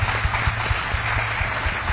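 An audience at a housing showcase event claps in a steady, full round of applause, with a continuous crackle of hands and soft thumps underneath, moderately loud and close.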